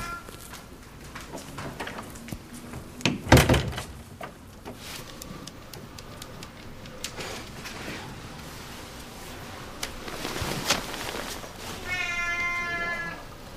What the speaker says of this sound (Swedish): Släppte ut kattfan med flit.